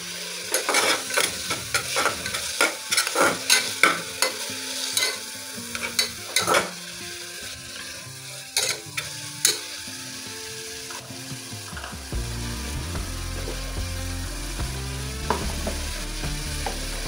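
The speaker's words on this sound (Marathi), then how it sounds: "त्यासाठी आपण हे तेलामध्ये थोडी शिजवून घेतोय।" Spinach frying in oil for palak khichdi, with quick clattering spoon strokes in the pan over a sizzle, then a steadier frying hiss with a low hum toward the end.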